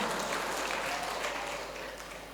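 Applause from an audience of mothers and fathers at a parenting seminar, a steady broadband patter of many hands that holds level and then eases slightly toward the end, with no voices over it.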